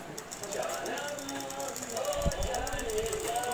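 A sewing machine runs fast with a rapid mechanical rattle, stitching the border trim on a full-sleeve blouse, with someone talking over it.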